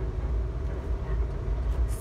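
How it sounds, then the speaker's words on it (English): A low, steady rumble comes from inside an Atchison, Topeka and Santa Fe passenger train rolling through south central Kansas, with constant wheel and carriage noise and no voices. "So you are on a train?"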